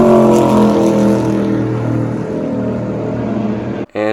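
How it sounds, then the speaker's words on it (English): A NASCAR Cup Series race car driving through the Daytona International Speedway tri-oval, a loud sustained engine roar with a harmonic drone that shifts in pitch as it passes, heard alone before cutting off abruptly. "next clip is of a car going in the Trioval."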